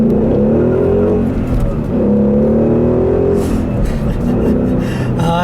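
A Toyota Supra on its stock exhaust accelerates hard, a loud, steady engine drone rising in pitch through the gears, close by and continuous with no talking.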